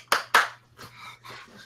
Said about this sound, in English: And continues with the clap.